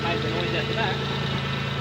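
A 1MZ-FE V6 car engine, first started after four months, idles with a steady, loud mechanical drone and low rumble, continuous throughout with no other clear sounds.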